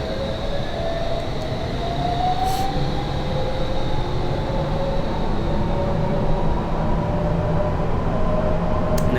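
A London Underground S7 Stock train in Train Simulator 2019 runs steadily, its loud constant rumble and rising motor whine carrying on throughout with no talk.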